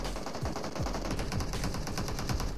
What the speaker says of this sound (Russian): Просто он с МР по ним стреляет.